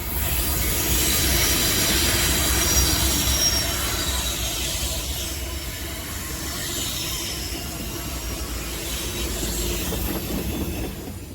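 CSX manifest freight train led by AC4400 locomotives passing at Point of Rocks, Maryland, with loud, sustained wheel squeal and rolling rail noise from cars going by close to the listener.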